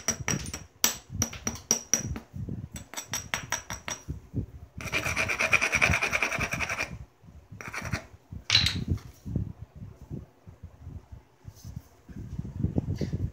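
Flint biface having its platform edge trimmed during knapping indoors, heard as bursts of dry rubbing and rasping scrapes with scattered sharp taps, close and moderately loud, with no talking.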